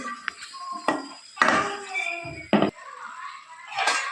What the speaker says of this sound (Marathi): कढईवर आता झाकण ठेवून सगळे मसाले आपण आता शिजवून घेऊया